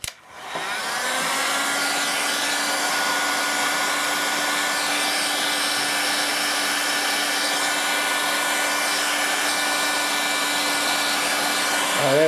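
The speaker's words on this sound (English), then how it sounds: "Let's get the heat gun out." A heat gun blows hot air in a steady, loud, continuous whoosh with a faint whine, starting up after a brief quiet moment and running alone for the rest of the clip, used while working on an exploded Victron MPPT charge controller.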